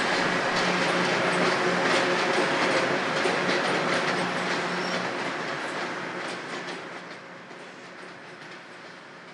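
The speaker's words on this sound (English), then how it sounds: "This train on the West Hempstead branch at Lakeview is passing beneath the Southern State Parkway on its" ALCo diesel train on the Long Island West Hempstead branch at Lakeview passing beneath the Southern State Parkway, a loud steady rumble with clickety-clack from the wheels that slowly fades as it moves off.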